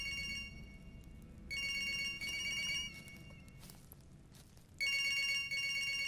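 A telephone rings inside the Siren Head horror video game, sounding in bright, repeated bursts separated by short gaps over a faint, rumbling ambient background.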